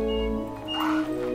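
A small Fabit creature in Yonder: The Cloud Catcher Chronicles gives a short, close, dog-like whimpering yip lasting about a second.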